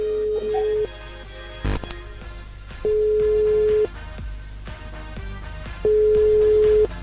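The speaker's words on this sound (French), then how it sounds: "Ça sonne déjà." A telephone ringback tone sounds on the line during a Creole radio call-in show: three long, evenly spaced rings with gaps between, heard over faint studio background sound.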